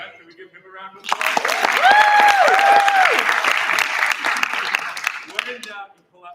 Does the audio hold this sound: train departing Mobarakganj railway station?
no